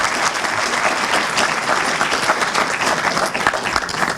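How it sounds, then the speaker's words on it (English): A club audience at the San Marino City Club gives sustained, dense applause, steady and full for several seconds without a break. "So, ladies and gentlemen, please give a warm round of applause to Steve Hindle."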